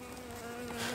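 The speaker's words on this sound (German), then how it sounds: "dass die Bienen dann auch so ein bisschen sterzeln" Honeybees fanning at the hive entrance, a close continuous buzzing hum with a steady tone, alone and fairly faint over a brief moment.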